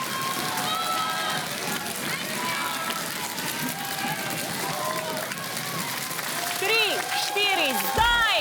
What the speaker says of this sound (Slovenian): Dobro, en aplavz za obe ekipi.